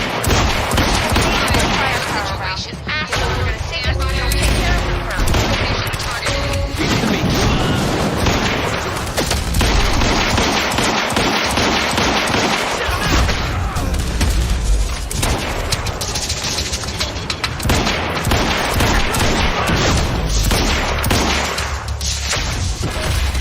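Gunfire and explosive booms in the shooter game Quantum Break, dense and continuous with heavy low-end impacts throughout, mixed with game music and effects, while a voice speaks intermittently.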